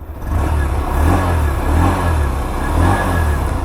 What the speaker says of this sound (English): let's also hear the exhaust note for the Bajaj Platina 100